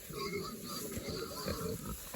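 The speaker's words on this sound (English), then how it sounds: "You can see this pig's just chowing down." A pig eats at pasture, giving low grunts and snuffling chewing noises that stay fairly faint and even throughout.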